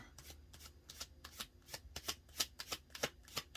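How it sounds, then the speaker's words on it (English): Cards riffle repeatedly in quick, rhythmic bursts, close and soft, each shuffle a fluttering rush of paper edges. "Yes, shuffle slow. Let the deck purr in your hands a bit."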